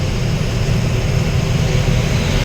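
An airplane landing at Rajahmundry airport in Andhra Pradesh: a steady, loud broadband engine roar with a deep low rumble, continuous throughout, cutting off sharply at the very end.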